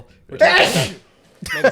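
A single loud, close sneeze bursts out with a sharp intake and explosive release, followed by a brief snippet of speech.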